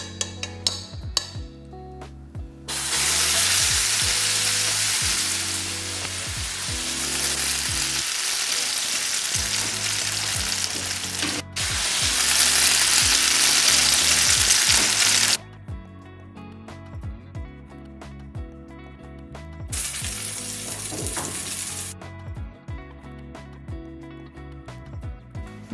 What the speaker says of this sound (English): Now I'm gonna place some sunflower oil in our pan and get it hot, and then we're going to fry them off.